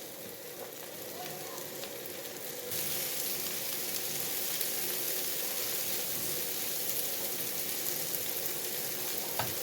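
Onion and cabbage frying in a pan for a chicken kachori filling, a dense steady sizzle that jumps louder partway through as more goes in, then holds constant.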